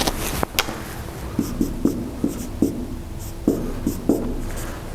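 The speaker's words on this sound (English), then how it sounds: "Let me write this a little bigger." Marker or chalk writing on a board during a university electrical engineering lecture, a series of short scratchy strokes and taps in an irregular rhythm, close and clear with no talking.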